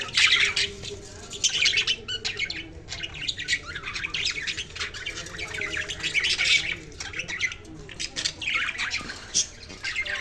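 Pet budgerigars chatter and squawk continuously, a dense, busy flock of harsh chirps and calls close by, with no talking.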